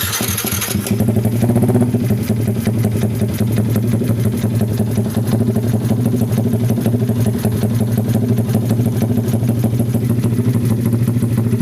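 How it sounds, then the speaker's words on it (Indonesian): A Yamaha MX King 177 motorcycle engine idles steadily and loudly for the whole stretch, its loud aftermarket exhaust giving a rough, throbbing rumble that starts up at the beginning. "Knalpotnya bacot banget ini"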